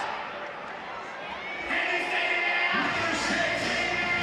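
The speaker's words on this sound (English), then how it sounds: "There it is, full support from the full capacity crowd." A full-capacity stadium crowd of around 55,000 at a Savannah Bananas banana ball game cheers for the kiss-off winners, a broad roar that swells louder midway and stays steady, with people talking over it.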